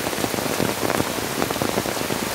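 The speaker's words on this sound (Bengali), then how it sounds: "বৃষ্টি আর বৃষ্টি।" Rain pours onto a village home during a wet-season downpour, a dense, steady hiss of drops drumming on surfaces, close and continuous with no voices.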